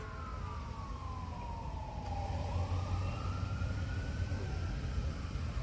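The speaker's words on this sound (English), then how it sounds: "Sirens in the background." A wailing siren sweeps down and back up in pitch, heard from a distance over a low rumbling background, with no one talking.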